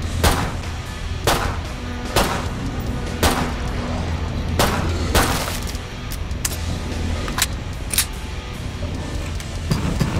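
Gunfire in the video game Killing Floor 2, loud sharp shots cracking out at irregular intervals, roughly a dozen bursts spread across a steady background rumble of game noise.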